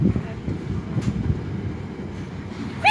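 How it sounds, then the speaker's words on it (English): A freight train passing through Nuneaton station, a steady low rumble of wagons rolling by at moderate distance, with a brief squeal near the end. "Another freight train over there."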